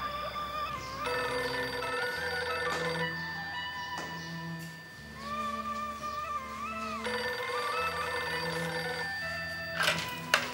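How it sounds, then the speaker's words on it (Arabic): A telephone rings repeatedly in an Egyptian TV drama scene, its bright electronic trill recurring in bursts over a steady low musical bed, with no talking. "تليفون يا ستي"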